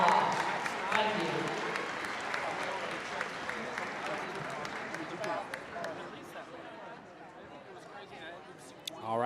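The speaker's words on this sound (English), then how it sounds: "Let's give these students and their parents a fine round of applause." Applause in a high school gym on senior night for students and their parents, a scattered crowd clapping that starts fairly strong and gradually thins and fades, with chatter and footsteps underneath.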